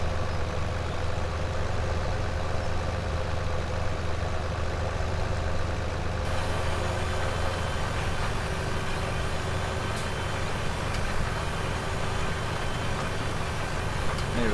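A tractor engine in Farming Simulator 17 drones steadily throughout, a dense continuous rumble with a constant level and no breaks, heard close with no talking.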